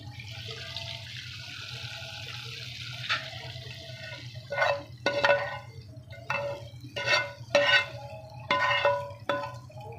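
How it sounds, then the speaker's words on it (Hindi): Hot tempering is poured into cooked chana dal, sending out a hissing sizzle followed by several sharp splashy bursts as the oil hits the dal, against a low kitchen hum. "देखिए माशाल्लाह से दाल को हम तड़का लगा रहे हैं इस तरीके से।"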